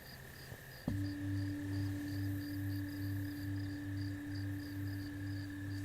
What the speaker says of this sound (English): You hear the sounds of crickets